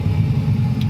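A truck engine rumbles low and steady at close range just after firing up, idling with a deep continuous drone.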